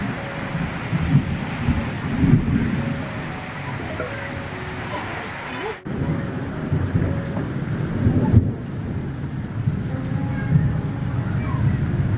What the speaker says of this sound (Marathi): ॲक्च्युली जोराचा पाऊस सुरू झालेला आहे